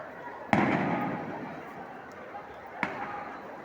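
Two sharp gunshot-like bangs ring out during a clash between students and police, the first loud with a long echoing tail and the second fainter about two seconds later, both heard at a distance.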